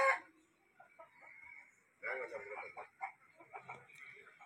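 Chickens cluck in a backyard coop on a small house plot. Short calls rise over a quiet background, and someone talks through much of the clip.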